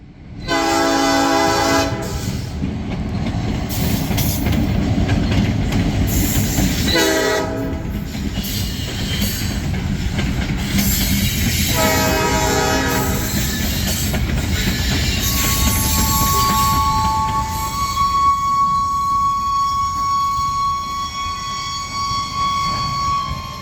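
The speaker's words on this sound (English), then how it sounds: "The train came to a stop to pick up a loaded boxcar at ETG." A freight train rumbles close by, its horn sounding in bursts, then wheels squeal and clatter as it slows to a stop beside a grain facility in Plum Coulee, Manitoba.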